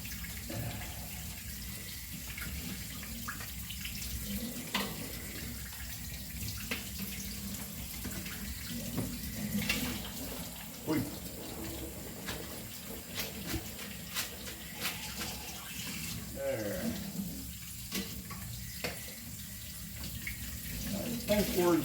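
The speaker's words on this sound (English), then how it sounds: "You don't have to rinse them really, really good, the noodles." Tap water runs steadily into a kitchen sink while noodles are rinsed on a farm, a continuous watery hiss with scattered clinks and handling noises, and a voice talks faintly in places.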